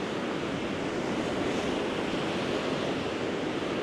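Wind drives steady, dense water and surf noise across a shallow beach basin where the water level has risen, a loud continuous wash with no talk.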